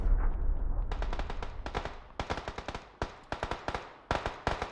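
Rapid bursts of gunfire crack out in quick clusters in PUBG: Battlegrounds, sharp and loud, with short gaps between volleys and no talking.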